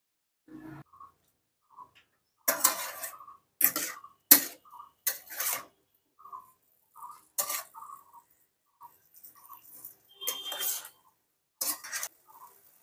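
Mixed vegetables with turmeric stirred in a pan, giving a series of separate scraping and clattering strokes, sharp and close, with quiet gaps and small clicks between them.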